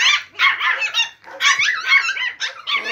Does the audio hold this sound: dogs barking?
yes